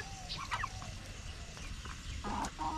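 A brooding hen off her nest clucks and gobbles in short bursts in a backyard garden, faint and somewhat distant over a low outdoor rumble.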